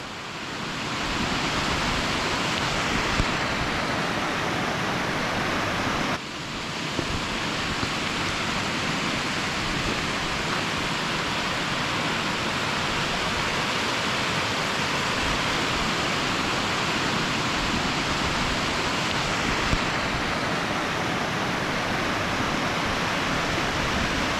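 A mountain creek flows out of a notch in a moraine hill near a lake, producing a constant close hiss and rush of running water, loud and steady throughout with no voices.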